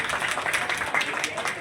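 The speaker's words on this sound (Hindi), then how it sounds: "इनके लिए बहुत ज़्यादा जोर से ताली बजाई जाए" Dense applause from an audience at a public gathering, a steady wash of many hands clapping throughout with some voices mixed in.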